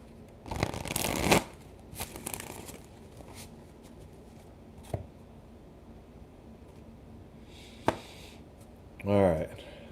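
A deck of playing cards shuffled close up in two bursts of riffling, followed by a few isolated card taps and a short final riffle near the end, over a quiet room background.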